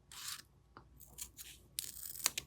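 Scissors snip through a strip of velcro hook-and-loop tape in several short, faint, sharp cuts and rasps separated by brief pauses.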